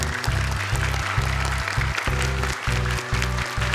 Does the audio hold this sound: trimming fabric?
no